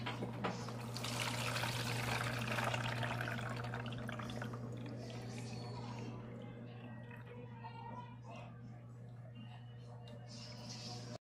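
Freshly fried sweet potato chips are strained, giving a steady crackling, trickling and dripping sound with a constant low hum beneath it, loudest early and thinning toward the end.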